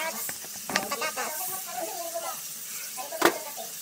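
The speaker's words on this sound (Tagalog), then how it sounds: "Ispilisan na natin si bawang sibuyas." Garlic and onion sauté in a pan with a faint, soft sizzle and hiss running under a speaking voice, with a couple of brief clatters.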